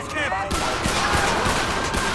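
Rapid bursts of gunfire in LSPDFR, a police mod for GTA V, crack out loud and close, a quick string of shots over a busy in-game soundscape.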